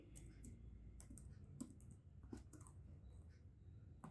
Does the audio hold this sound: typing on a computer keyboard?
yes